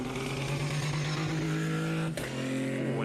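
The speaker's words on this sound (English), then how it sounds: "it sounds like maybe there's a little bit of a misfire or something on that car just coming out of that corner" Race car engine at a winter series round at Aragon circuit, droning loud and steady as it pulls out of a corner, with a brief dip and stutter partway through like a misfire.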